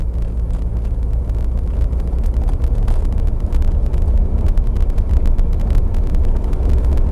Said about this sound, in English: So as you can tell, it's not a noisy car from the inside.